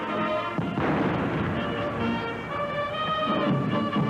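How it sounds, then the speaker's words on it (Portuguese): Cannon salute fired at the Brazilian Congress during an official ceremony: loud, continuous booming blasts with a rumbling, echoing roll that fills the whole stretch. "Eles foram saudados por tiros de canhão e pelo toque do hino nacional."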